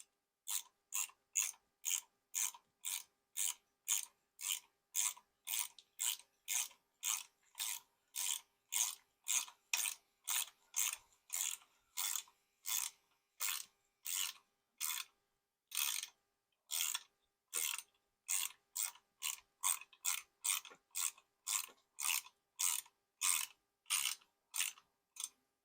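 A ratchet tightens a bolt on a Switch Hitter mount fitted to a wheelchair. Close, crisp clicks repeat in a steady, even rhythm, about two per second, with brief pauses between bursts and no talking.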